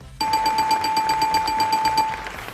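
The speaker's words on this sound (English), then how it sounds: "let me press the buzzer now and see who I get to speak to" Electronic game show buzzer pressed during a charity event livestream: a steady ringing tone with a rapid pulsing rattle, loud and close, lasting about two seconds before it cuts off.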